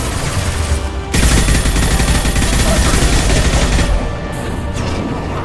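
Dense, loud gunfire in the Mass Effect video game as targets are shot at, a sustained burst of rapid shots over about three seconds, framed by game noise before and after.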